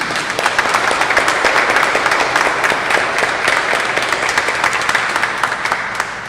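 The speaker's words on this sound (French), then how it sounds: "je voudrais vous demander d'applaudir une fois de plus très chaudement le docteur" Warm, sustained applause from a conference audience honoring Dr Jacques Louis, dense and steady clapping filling the room at close range with no pauses.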